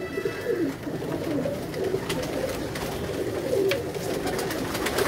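Several Kasuri bloodline pigeons coo steadily and close by in a loft, their soft rolling calls overlapping without pause throughout.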